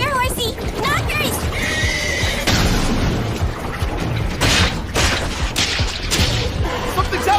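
A horse neighs loudly several times close by, with hoofbeats and booming thuds mixed into a busy animated action scene, while voices shout over it.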